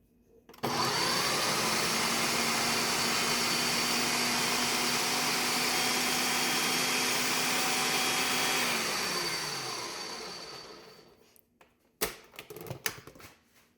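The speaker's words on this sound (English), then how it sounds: "So I put them in my food processor. These are the sweet potatoes." A food processor chops sweet potatoes for raw dog food, a loud steady motor whir with a grinding hum that holds for about nine seconds, then winds down, followed by a few clattering knocks.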